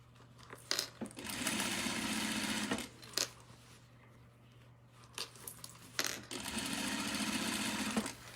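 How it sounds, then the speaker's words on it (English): A sewing machine runs in two steady bursts of stitching, each a couple of seconds long, separated by quiet clicks and handling noises. "you're sitting over there on that sewing machine"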